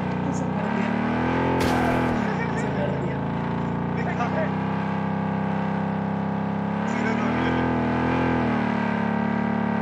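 An old car's engine revs steadily in the game Project BloodStrike, a loud sustained drone that rises and falls in pitch, with a brief sharp burst near the start and people talking over it.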